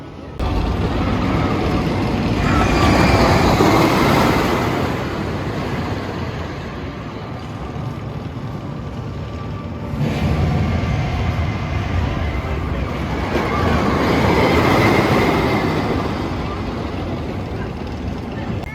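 The Wicker Man roller coaster at Alton Towers roars past as a broad, loud rushing rumble that swells, eases and swells again over many seconds, with voices mixed into the noise.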